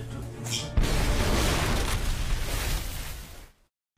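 A sudden deep boom from an explosion in an animated fantasy series bursts out and rumbles loudly for a few seconds as a broad roar before cutting off abruptly.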